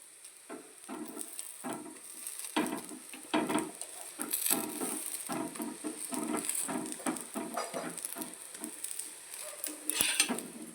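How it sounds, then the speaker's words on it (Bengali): A vegetable and egg flatbread fries in a pan with a gentle sizzle, punctuated by repeated soft scraping and tapping of a utensil against the pan, close and steady for several seconds. "এই গোলা রুটিটাকে পুরো একদম কড়া করে ভাজতে হবে, কারণ রুটিটার মধ্যে আমি ডিম দিয়েছি।"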